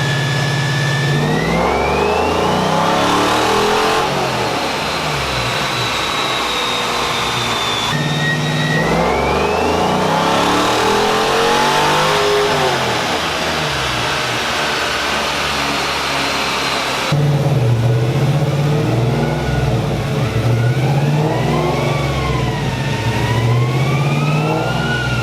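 A car strapped down on a dyno for engine tuning revs hard in long rising pulls that repeat several times, loud and close, with no voices.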